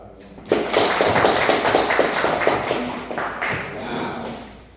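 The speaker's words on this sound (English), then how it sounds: "Clap it up, everyone." An audience of young entrepreneurs breaks into sustained clapping at a talk on entrepreneurship and faith. Many hands beat dense and fairly loud for several seconds, with a few voices mixed in.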